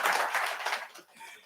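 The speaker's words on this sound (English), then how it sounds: "Let me give him a clap." A brief burst of audience clapping at a county treatment court graduation greets a probation officer, a dense patter of many hands that fades out quickly, with a little chatter mixed in.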